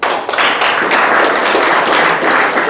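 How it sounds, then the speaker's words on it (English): Applause from participants at a climate justice charter workshop, close, busy clapping with distinct sharp individual claps and taps standing out from the crowd's steady patter. "a big round of applause to all of you for coming."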